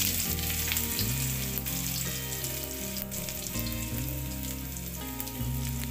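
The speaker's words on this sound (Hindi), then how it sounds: "ऑयल हमारा गर्म हो चुका है, इसमें डालेंगे जीरा" Cumin and garlic fry in hot oil in a kadhai, giving a loud, continuous crackling sizzle close up, with background music playing underneath throughout.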